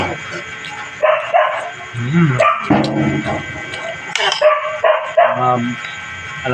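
A dog barks and yips several times in short bursts, close by, with people talking over and between the barks.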